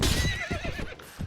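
A horse in the Mount & Blade Warband game, modded with A Clash of Kings, gives a loud, close whinny with a wavering, descending pitch, with hoof clip-clops in the background.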